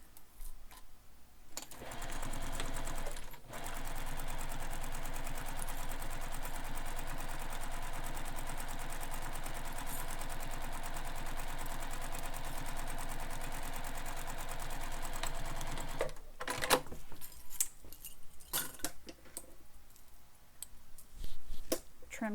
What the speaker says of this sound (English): we're going to sew along that top straight edge only